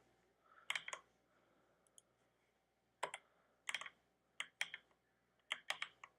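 Computer keyboard typing in scattered bursts of crisp clicks, a few quick keystrokes at a time with pauses between, close and fairly quiet with no voices.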